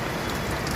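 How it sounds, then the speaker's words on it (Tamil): Rain falls in Madurai in a steady, even hiss that fills the whole short stretch with no gaps, and nobody speaks over it. "இன்றைக்கி தான் மழை பெய்யுது."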